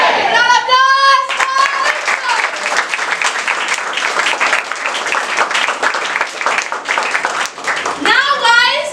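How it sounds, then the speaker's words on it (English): Enthusiastic crowd clapping at a school talent show, a steady burst of applause lasting several seconds, framed by children's excited voices and cheering at the start and end. "Round of applause."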